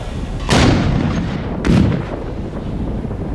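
Two loud, sharp blasts about a second apart from an RPG grenade launcher mounted on a drone, each a booming crack that quickly fades, with no voices.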